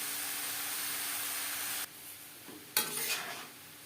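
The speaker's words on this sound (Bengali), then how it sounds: "কাঁচা গন্ধ যাওয়া পর্যন্ত নাড়াচাড়া করে দেব।" Spices are stirred in a cooking pot for vegetarian winter khichuri, a steady close sizzling scrape that drops out midway, followed by a couple of brief clatters and stirring sounds.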